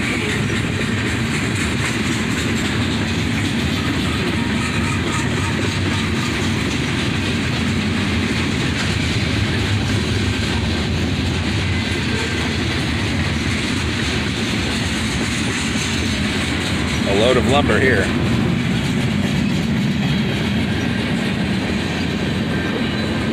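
A long freight train rolls steadily past near Dayton with continuous loud rumble and clickety-clack of wagons, a brief wheel squeal rising near the end; someone speaks briefly.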